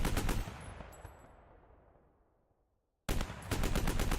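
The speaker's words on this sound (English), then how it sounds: "So this is the Bozar 50 caliber LMG." The Bozar 50 caliber LMG in a video game fires in a loud rapid burst, the shots decaying into a fading tail and near silence before a second fast burst of heavy automatic fire.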